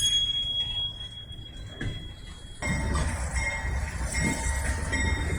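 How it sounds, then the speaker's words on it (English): Norfolk Southern locomotives backing down through a rail yard in Lynchburg, Virginia: a steady rumble of rolling rail cars with faint wheel squeal, which grows louder partway through as the train passes close by. "Now we're back down to the locomotives that are backing down past where I'm at"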